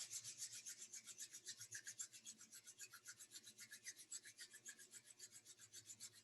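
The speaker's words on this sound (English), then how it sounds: "Take your hands together again and rub them together." Hands rub briskly together in a fast, steady back-and-forth rasp, dry skin on skin, close and quiet, with no voice.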